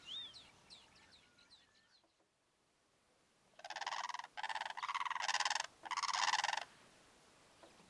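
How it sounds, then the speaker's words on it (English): African fish eagles calling in duet, loud ringing bursts repeated in quick succession over several seconds, preceded by fainter bird chirps and quiet background. "African fish eagles,"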